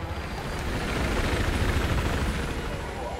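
A military helicopter in the Battlefield 4 game's Shanghai mission keeps up a steady, dense rotor and engine roar at close range, swelling slightly midway.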